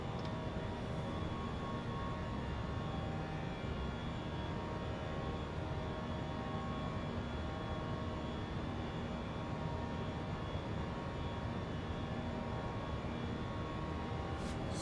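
Steady, unbroken roar of Fenix A320 jet engines at climb power in MSFS2024, a dense broadband drone held at an even level throughout with no talk over it.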